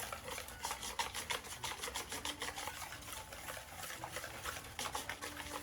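A whisk stirs lumpy homemade playdough mixture in a bowl, producing a steady, close scraping and swishing churn with quick rhythmic strokes throughout.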